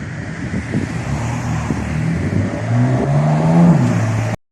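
A young Mercedes-AMG car accelerates past on a street in Knokke, its engine note rising and swelling louder over steady wind noise before cutting off abruptly.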